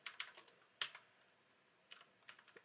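Bursts of computer keyboard typing while editing GML code, quiet and close, with short clusters of keystrokes separated by pauses.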